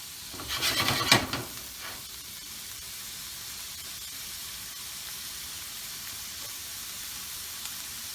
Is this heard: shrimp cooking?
yes